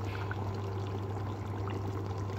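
Cooking cream poured into a simmering chicken dish, a steady close pouring and soft bubbling sound with a constant low hum underneath, unbroken for a couple of seconds.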